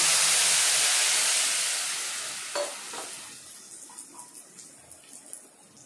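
Tamarind juice and lemon juice hit a hot pan for puli haram, bursting into a loud steamy sizzle that slowly fades to a quieter crackle with small pops.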